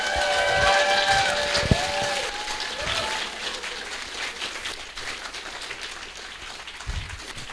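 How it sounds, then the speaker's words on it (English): Theater audience applauding a film director returning to the stage at a cinema, a steady wash of clapping that gradually thins and fades, with a brief whistle-like tone early on. "Please give him a big round of applause."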